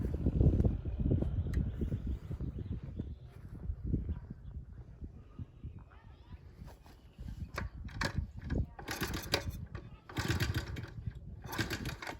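A 1979 Honda Z50 minibike engine is kicked and sputters to life, coughing in uneven bursts and then settling into a rough, choppy run with rising revs, while people talk intermittently over it.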